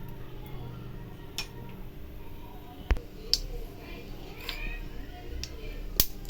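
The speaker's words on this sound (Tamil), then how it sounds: "எண்ணெய் ஹீட் ஆகிடுச்சு கடுகு போட்டுக்கலாம்" Mustard seeds splutter in hot sesame oil in a pan, giving sparse, sharp pops and crackles scattered over a low background, with a few louder snaps standing out.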